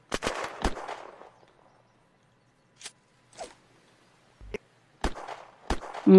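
Gunfire in the video game Unturned during arena PVP: a burst of sharp shots at the start, then scattered single cracks spaced out over several seconds, ending with a few more loud reports.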